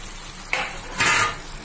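Fish is poured into a hot pan and hits it with two loud, close bursts of hissing splatter, each lasting a fraction of a second, over steady frying noise.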